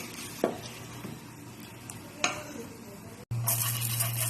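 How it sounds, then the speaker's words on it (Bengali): Oil and water brushed across a pan while making Makar Sankranti pitha, giving a soft close scraping with a few sharp taps and a steady hum that grows louder near the end. "আর একটু মধ্যে তেল আর জল দিয়ে একটু ব্রাশ করে নিলাম"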